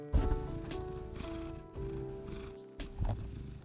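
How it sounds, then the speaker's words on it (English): A male cat purrs close to a microphone in a steady, continuous rumble lasting a few seconds, with brief pauses and breaths, and no talking over it. "Can you purr into the mic?"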